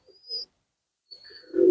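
A wild wood pigeon coos in short, soft phrases, two brief calls separated by a pause, followed by a louder low rumble of movement near the end, heard alone at close range.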